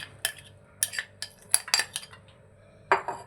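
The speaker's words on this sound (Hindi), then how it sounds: "अब मैं डाल रहा हूँ इसके अंदर आलू, ये आलू एक डाल रहा हूँ जो मैंने चॉप करके रखा हुआ।" Chopped potatoes go into a cooking pot for pakora curry. A few sharp, close metallic clinks and knocks ring out at irregular moments over a quiet background.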